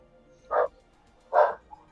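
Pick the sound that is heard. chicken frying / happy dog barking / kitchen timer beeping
happy dog barking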